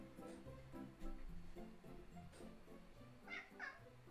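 A house cat meows several times in a quiet indoor room, with short faint calls spread across the moment and a couple of brighter, higher cries near the end.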